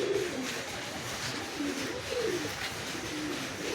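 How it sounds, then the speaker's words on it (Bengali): Kalshira Giribaz pigeons, a flying breed kept for sale, give repeated low, throaty coos at close range over a steady hiss of background noise. "এই যে কালশিরা পায়রা দেখতে পাচ্ছেন একটা"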